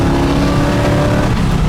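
A numbers-matching 1970 Camaro Z28 with its LT1 V8 engine rumbles steadily and loudly from start to finish while driving down the road, with no talk over it.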